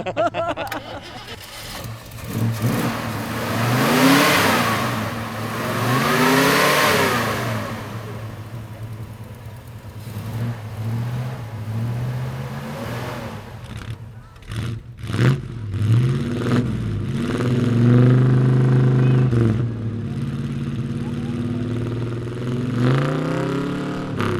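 A V8 289 car engine at an outdoor motor show revs repeatedly, loud and close, with rising and falling sweeps and a few sharp throttle blips, steady idle rumble between revs.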